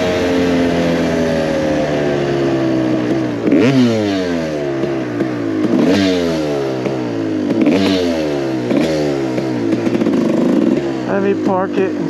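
Panhead motorcycle engine revving in a garage, a steady rumbling idle rising in repeated throttle blips about every two seconds, loud and close, with voices speaking over it.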